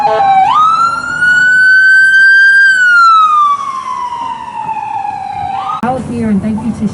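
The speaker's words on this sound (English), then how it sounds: "Let that ambulance through." A loud ambulance siren wails up and holds, then slowly falls in pitch as it passes close by a street protest in Saint Paul, with road noise and a sharp change near the end.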